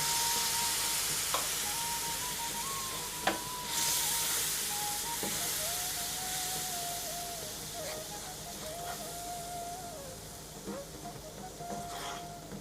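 Vinegar poured into hot frying masala for a dry prawn pickle, giving a steady hiss and sizzle that starts strong and gradually fades while cooking continues.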